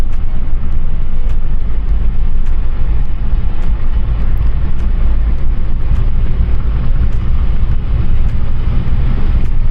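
A car engine drones steadily at about 1800 RPM while the driver shifts up through the gears, a dense low rumble with road and wind noise that stays even and loud throughout.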